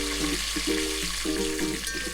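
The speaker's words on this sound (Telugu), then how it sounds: "అలాగే కొంచెం కరివేపాకు, 4 ఎండుమిర్చి వేసుకుని" Curry leaves and four dried red chillies sizzle in hot oil for a spicy chicken biryani, a steady frying hiss mixed with soft tonal scraping from stirring, with no talk.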